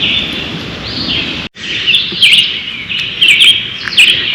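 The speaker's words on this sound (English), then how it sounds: "just me and all of these birds keeping me company along the trail." Several songbirds chirp and trill close by along a wooded hiking trail up Bull Hill in the Hudson Valley, bright repeated tweets over a soft breezy background, no voices.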